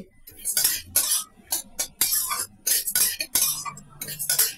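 Moong dal is dry-roasted in a pan over medium flame while a spoon stirs it continuously, giving rapid, close scraping and rattling strokes of grains against metal in an uneven rhythm.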